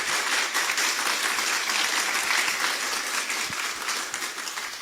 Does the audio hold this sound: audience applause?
yes